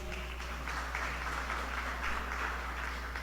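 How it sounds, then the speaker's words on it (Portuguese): Congregation applause during a church sermon, soft and somewhat distant clapping sustained throughout, sitting over a steady low hum. "palmas para o Senhor Jesus"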